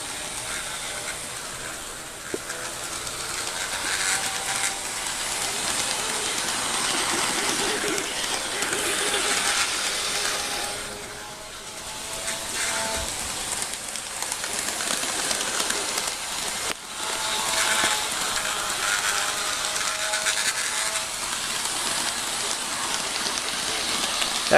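Athearn HO scale model locomotives, a Tri-Rail EMD GP50 and a CSX unit, run together on track with a continuous whirring, rattling hum and small clicks from wheels and rail joints. The sound stays fairly steady throughout.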